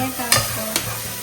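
Chicken curry stirred in a hot pan, with two quick scraping strokes over a steady low sizzle of frying.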